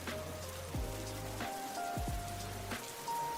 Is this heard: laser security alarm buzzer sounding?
no